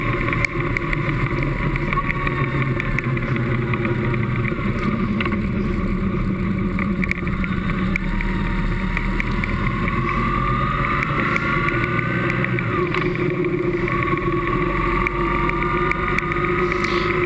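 A BMW R 1100 GS motorcycle engine drones steadily while riding. The loud, continuous hum has shifting pitch as it revs and is mixed with constant wind rush.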